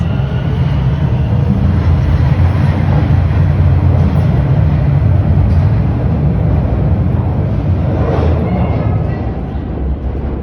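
Eastbound TTC Line 4 subway train pulling out of Bayview station toward Don Mills, a steady loud low rumble and rolling roar that holds throughout, easing slightly at the end.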